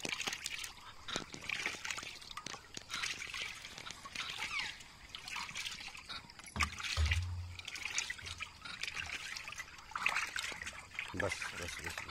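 Liquid homemade lemon compost for tomato plants is poured and stirred in a tank, with a steady trickling, splashing sound close by while people talk over it throughout.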